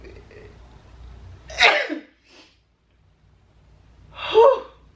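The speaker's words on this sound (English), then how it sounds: "told you I had to sneeze" Two sharp sneezes a few seconds apart, close and loud, with a quiet pause between them.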